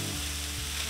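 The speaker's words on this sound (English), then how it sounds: "getting that sizzle" Steady, crackling sizzle of beef smash-burger patties frying on a hot griddle, continuous and fairly quiet with no voices.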